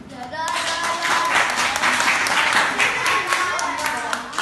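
Audience clapping at a Ramadan iftar gathering, steady applause sustained for several seconds after a brief quiet start, with voices mixed into the crowd noise.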